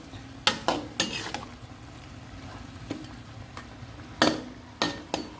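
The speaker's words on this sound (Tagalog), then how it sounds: "Mix mo lang, baliktad-baliktarin mo lang siya para talagang musunog" Food being stirred and flipped in a hot cooking pan, with a utensil scraping and clanking against the metal in scattered bursts over a soft steady sizzle, with no one speaking.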